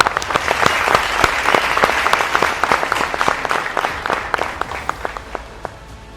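Sustained applause from an audience at a cooking competition final, many hands clapping steadily and loudly for several seconds before tapering slightly.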